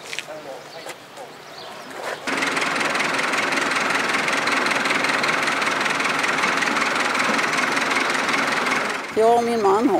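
A 1947 Farmall tractor engine idles with a steady, loud, rhythmic chugging that runs continuously, with brief voices at the start and end, at a tractor rally near Vadstena, Sweden.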